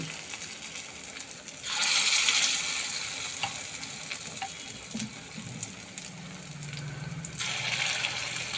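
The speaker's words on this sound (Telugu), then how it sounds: "ఇప్పుడైతే ఇది కాస్త మూత పెట్టి ఇలాగ వేగనిద్దాం" Millet tiffin batter fries in a covered pan, giving a steady, close sizzle with louder bursts of crackling hiss near the start and again near the end.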